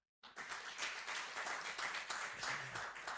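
An audience at a book launch bursts into sustained applause, a dense, steady wash of many hands clapping that starts abruptly and continues throughout, fairly distant in the room.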